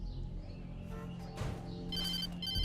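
A telephone rings in the video game Alan Wake, bright electronic ring tones rising over a low ambient drone, fairly faint and alone without talk.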